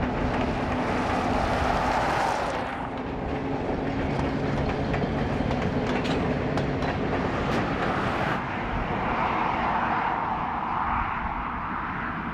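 Idaho Northern & Pacific freight train rolling southward on the Joseph Branch: a loud, continuous rumble with rhythmic wheel clatter and wind buffeting, the roar shifting in tone partway through.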